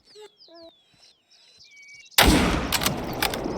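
A hunting rifle fires at a mouflon in Spain. A single loud, sharp shot cracks after a stretch of faint birdsong and then rolls away in an echoing tail.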